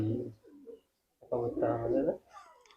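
Pigeons coo in low, throaty bursts, with a pause between calls and a longer rolling coo after it. Someone speaks over and around them.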